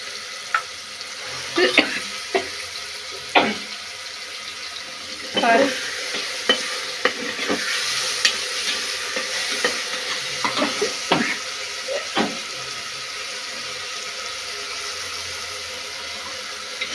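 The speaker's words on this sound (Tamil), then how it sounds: "தக்காளி போட்டு நல்லா வதக்கணும்." Tomatoes sautéing with salt in a pan: a steady sizzle runs throughout, broken by irregular scraping clicks and knocks from stirring, close and fairly loud, with no talking.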